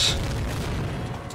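Anti-aircraft fire during an animated space battle: a dense, rumbling barrage of booms and pops that holds steady and loud throughout.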